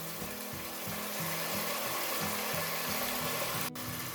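Spices fry in a pan for a chickpea curry, a steady low sizzle under a rhythmic low thumping hum, continuous and fairly faint throughout.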